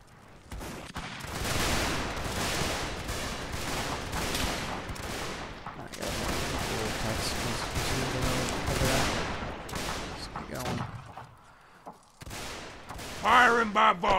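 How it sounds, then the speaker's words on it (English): Musket volley fire in Mount and Blade Warband, with dense crackling fusillades of many overlapping shots rolling on for several seconds, loud and sustained, then thinning to scattered bursts near the end. "Firing by volley, ready!"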